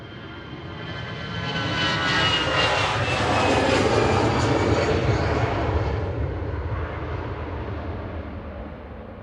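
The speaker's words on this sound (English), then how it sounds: "EasyJet heading off to Copenhagen in front of us, GEZUF with flight 2237" An EasyJet jet airliner takes off from Manchester Airport bound for Copenhagen, a loud, broad engine roar swelling to a peak midway and then easing slightly as it pulls away.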